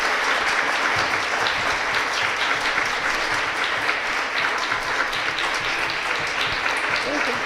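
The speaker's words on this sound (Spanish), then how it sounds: "Otro aplauso, por favor." An audience at a music talk on prehispanic music claps in sustained, dense applause. It stays steady and loud for the whole stretch, with faint voices under it.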